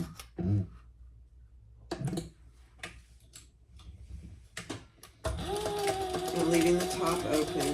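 A sewing machine stitching a small seam allowance on a garment, starting with a few quiet taps and ticks, then running in a steady close mechanical whir during the last few seconds.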